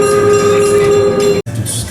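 Loud, steady rumble and tonal hum of the Thomas the Tank Engine steam train ride at Edaville, heard close from on board, cut by a brief dropout near the end.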